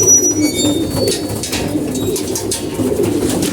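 Pigeons coo steadily in a loft, a continuous soft murmur of overlapping calls close by, with no talk.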